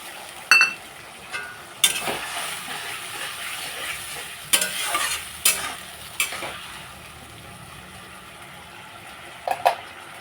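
Spice paste sautéed with potatoes in a pan for a thin koi fish curry: a soft sizzle broken by a string of sharp spatula scrapes and clinks, clustered at the start and again near the end.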